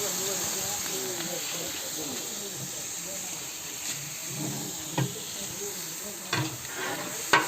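Ginger garlic paste frying in a large pot of mutton curry being cooked for a big crowd, a steady close hiss with occasional stirring knocks near the end.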